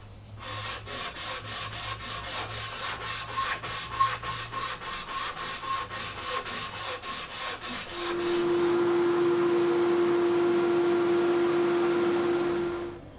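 Rhythmic rasping strokes of 320-grit sandpaper passed over the frets of a Stratocaster guitar neck, close and steady for several seconds, then giving way to a continuous even whirring tone.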